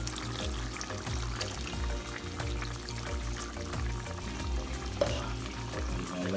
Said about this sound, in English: this is me adding the water.